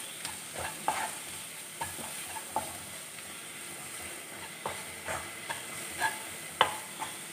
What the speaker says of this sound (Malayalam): ചെറിയ ഫ്ലെയിമിൽ വേണം ഇത് ഇളക്കി കൊടുക്കാൻ, അല്ലെങ്കിൽ പൊടികളൊക്കെ കരിഞ്ഞു പോകാൻ സാധ്യതയുണ്ട്